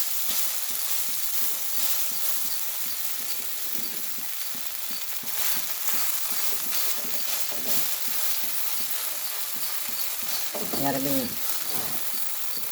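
Red rice roti cooking on a hot pan gives a steady, even sizzle throughout, with faint scraping and stirring touches and a brief clatter near the end.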